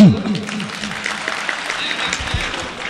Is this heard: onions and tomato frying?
no